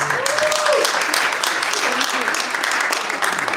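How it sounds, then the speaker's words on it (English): Audience applause for the co-hosts at a Pakistan Resolution Day flag-raising event in the City of Windsor, a continuous patter of clapping outdoors with voices and a whoop heard over it. "a big round of applause for our co-hosts for this program"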